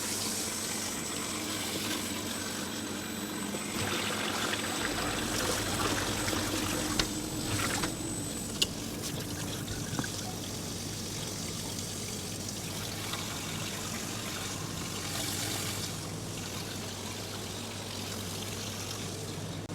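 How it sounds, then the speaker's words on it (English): Water pours and splashes steadily around homebrew cans being cooled, hot water being emptied and cold added, a continuous close gurgling wash with a few small clunks and no talking. "So just emptying the hot water now"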